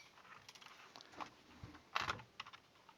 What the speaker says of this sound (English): And now typing should be more quiet too.